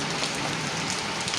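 Afternoon rain falls steadily in a garden, a dense, even hiss of drops pattering on surfaces close by, continuous and alone with no voices.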